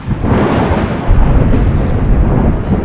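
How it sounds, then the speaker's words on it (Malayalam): Thunder during heavy rain near a forested home, a deep loud rumble swelling over steady rain noise for a few seconds, with no talk. "ഇടി"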